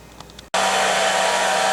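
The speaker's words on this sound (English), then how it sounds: "blow dryer is making a racket here" After a brief quiet moment, a hair dryer switches on abruptly and runs with a loud, steady whirring roar.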